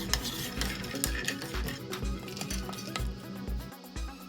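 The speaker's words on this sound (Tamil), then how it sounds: "இனி நெக்ஸ்ட்டு பிஸ்தாவை ரோஸ்ட் பண்ணி எடுத்துடலாம்." Pistachios roasting in a dry pan, stirred in a steady rhythm so the nuts rattle and the spoon scrapes at regular beats over a faint sizzle, close by and moderately quiet, with no talking.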